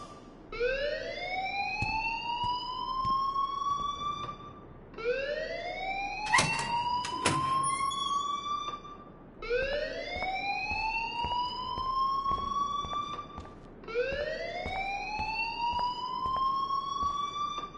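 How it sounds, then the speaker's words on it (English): A school alarm in a PlayStation 4 video game wails in four long rising sweeps, steady and loud, with brief clicking bursts between cycles. "please turn off that alarm since that's your job"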